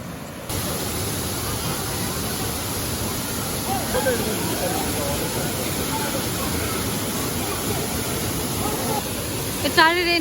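Rain falls around a waterfall in Kudremukh National Park, a dense, even hiss that holds steady for the whole stretch, with a brief faint sound near the end.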